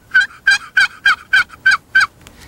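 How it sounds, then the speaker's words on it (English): Soft turkey yelps from a hunting call, seven evenly spaced, close, clear notes in a quick rhythmic series, then a faint trailing note. "Soften that calling down. Soft yelps."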